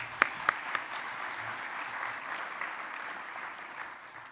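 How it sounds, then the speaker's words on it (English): Audience applause at the 2019 GMiS Luminary breakfast, a few distinct nearby claps rising into a broad wash of crowd clapping that carries on steadily and eases slightly toward the end. "Let's give them a round of applause."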